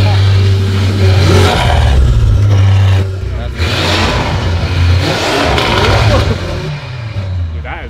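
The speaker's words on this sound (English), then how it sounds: "so we heard the exhaust" Audi RS6 with a RYFT exhaust revving loudly and steadily for several seconds, a deep engine drone with rising and falling pulls, while people talk over it.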